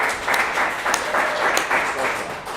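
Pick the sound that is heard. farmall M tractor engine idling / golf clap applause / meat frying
golf clap applause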